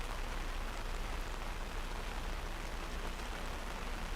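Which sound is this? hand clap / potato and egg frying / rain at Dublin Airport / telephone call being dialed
rain at Dublin Airport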